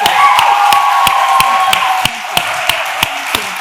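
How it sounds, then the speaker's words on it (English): A small group's round of applause for Antoinette at a salon-school event, heard as a few distinct claps in a slow steady rhythm, close and loud, over a sustained tone that cuts off midway. "big round of applause for Antoinette"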